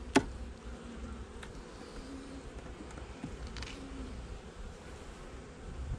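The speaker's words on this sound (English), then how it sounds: "Surprised they're not full of hive beetles." Honey bees buzzing inside an opened hive during an early December winter inspection, a steady close insect hum that holds throughout with no talking.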